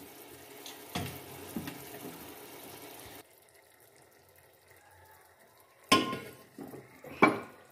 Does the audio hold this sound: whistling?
no